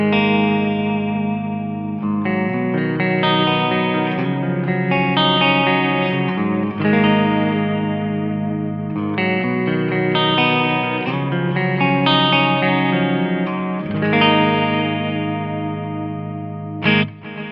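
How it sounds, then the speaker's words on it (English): Electric guitar through stereo tape delays with added stereo chorus plays sustained, shimmering strummed chords with echoing repeats, loud and steady with no talking. "So I can take that a step further even and add some stereo chorusing"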